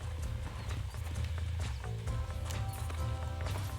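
Horse hooves clip-clop in quick, steady rhythm in the video game Red Dead Redemption while a horse is being broken, close and clear with no talk.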